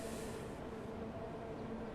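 London Underground Bakerloo Line train from Train Sim World 2 running steadily, a constant loud rumble with hiss and a faint tonal whine, no breaks across the whole stretch.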